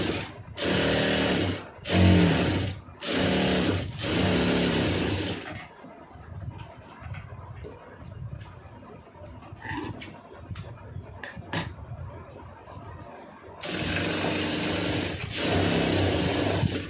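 A domestic sewing machine stitches the lining of a blouse in loud, rapid bursts, several short runs at the start and a longer run at the end, with quiet fabric handling and clicks in between.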